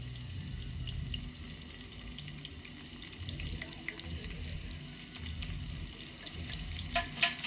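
Onions frying in a pan for mutton curry give a soft, steady sizzle with faint stirring and clinks, quiet and close, with a slightly louder clatter near the end and no talk.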